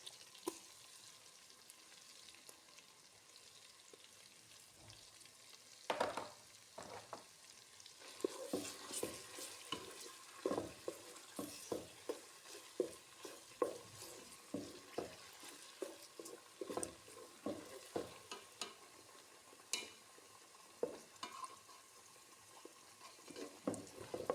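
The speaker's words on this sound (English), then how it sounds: "So we are going to allow this to fry for like 10 minutes" Tomato paste frying and being stirred in a pot for jollof rice: a soft continuous sizzle broken by repeated close scraping and clinking stirring strokes, fairly quiet throughout.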